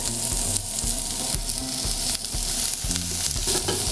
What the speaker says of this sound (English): We're gonna let this sweat a minute until the onions start to go a little translucent